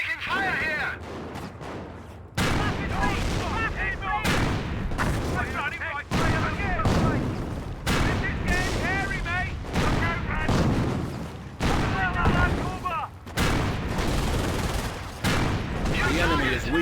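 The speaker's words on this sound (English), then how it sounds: "We're taking fire here!" Dense battle gunfire and booming artillery from the Company of Heroes game, with repeated bursts and blasts going on throughout while voices speak over the fighting.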